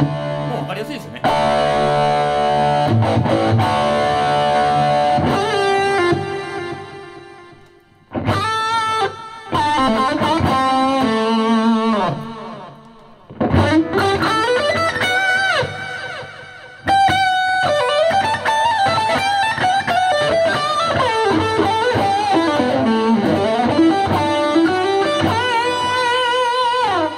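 Electric guitar lead tone played through a Line 6 HX Stomp with delay and reverb, sustained melodic notes and bends ringing out loudly with echoing tails, broken by a few brief pauses.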